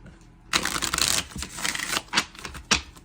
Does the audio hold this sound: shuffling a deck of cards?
yes